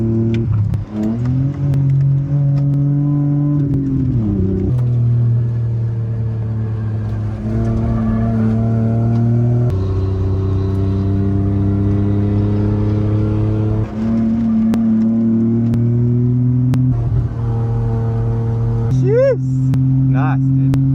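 A naturally aspirated 2.5-litre BMW E46 Touring on a track, its engine droning loud and steady as it pulls up through the revs, with quick dips at each gear change and a brief tyre squeal near the end.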